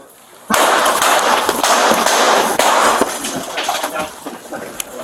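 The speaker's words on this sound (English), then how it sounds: "Shots fired by the police." Police gunfire during a Chicago SWAT hostage rescue, heard as a sudden loud burst of sharp cracks that keeps up as a dense, clattering barrage for several seconds, with scattered bangs and thuds.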